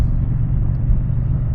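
Deep, steady low rumble of a 2024 Moto Guzzi V100 Mandello S motorcycle engine at low RPM while riding, loud and close with wind, no speech.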